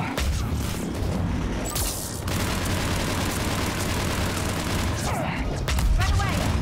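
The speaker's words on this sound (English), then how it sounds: "Quit it with your grenades!" Grenade blasts and gunfire erupt during a Mass Effect 3 firefight, a dense, continuous barrage of booms and crackling shots with sharper bursts near the start and end, loud and close.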